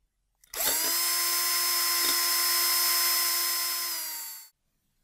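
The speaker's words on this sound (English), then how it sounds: "We need to make some holes first, so let's start drilling." Power drill boring holes into a DN80 metal duct, a single steady high-pitched whine lasting about four seconds, close and loud, then stopping abruptly.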